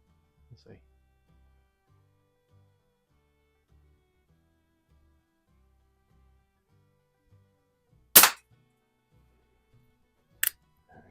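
Crosman Hawthorne M130 .22 multipump air pistol fired at a paintball, giving one sharp, loud report followed a couple of seconds later by a second, shorter crack, with near silence and faint low thumps before.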